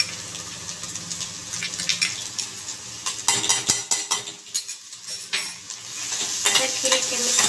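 Ginger garlic paste is stirred in a hot pan, a run of spoon scrapes and taps over a continuous sizzle, close and moderately loud, with no one talking.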